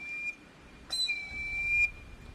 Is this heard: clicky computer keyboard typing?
no